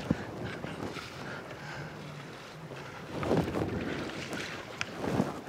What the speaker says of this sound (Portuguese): tá ventando, tá com onda.